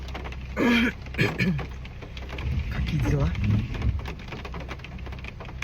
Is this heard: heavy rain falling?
yes